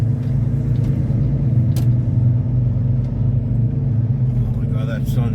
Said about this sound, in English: I'm driving here.